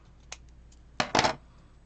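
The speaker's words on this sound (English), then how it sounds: "I think I'm going to cut that just a smidge because it's just a little bit too long." Scissors trimming a small paper card banner piece: a faint tick, then two quick close crisp snips one right after the other, alone in a quiet room.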